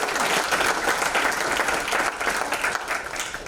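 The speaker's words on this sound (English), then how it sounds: "Round of applause for Richard." An audience at a film festival talkback applauds warmly, a dense and steady wash of many hands clapping that begins to thin out toward the end.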